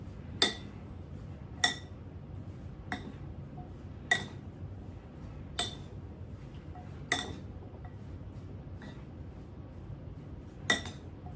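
Pastry filling being mixed in a bowl with pepper and salt, heard as sharp utensil clinks against the bowl every second or so over a quiet, soft background.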